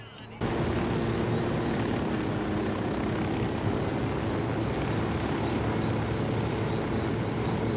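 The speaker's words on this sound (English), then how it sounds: "Guys, we got the helicopter." A helicopter in the video game Ghost Recon Wildlands runs steadily and loudly, its rotor and engine drone starting abruptly and holding without a break.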